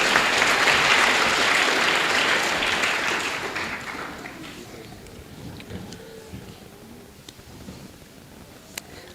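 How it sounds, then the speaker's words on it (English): A crowd claps for Juanita at an evening prestige ceremony, loud and full for the first few seconds before gradually tapering into scattered hand claps. "Let's give another round of applause"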